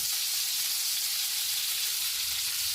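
Zucchini slices fry in hot oil in a pan, giving a steady, dense hiss of sizzling that stays even and unbroken throughout.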